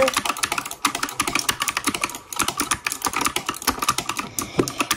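Fingers type rapidly on a new computer keyboard, producing a dense stream of close, crisp key clicks and clacks with brief pauses, loud and without speech.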